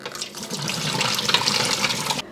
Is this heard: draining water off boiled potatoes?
yes